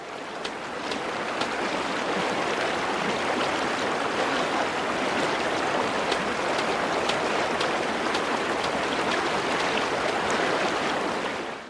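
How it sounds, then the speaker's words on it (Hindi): A river flows with steady rushing water, loud and continuous throughout, with a dense hiss and no voices. "यहाँ एक नदी है, बिल्कुल वैसी जैसी नक्शे में दिखाई है।"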